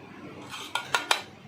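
Tin dhokla plates clink together three times in quick succession while being handled and greased with ghee in a home kitchen, sharp metallic taps close by over a faint background hiss.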